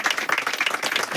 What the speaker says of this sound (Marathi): म्हणून तुमच्या सगळ्यांसाठी आपण एकदा टाळ्या वाजवल्या पाहिजे.